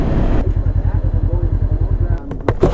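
A big motorcycle with an aftermarket exhaust idles nearby in a steady, rapid low thump, loud and close, with brief noise at the end.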